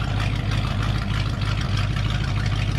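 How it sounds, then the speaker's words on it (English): A 1966 Ford F-250 pickup engine idles through dual exhaust with a low, burbling rumble, steady and close up, with no talking. "Love that dual exhaust."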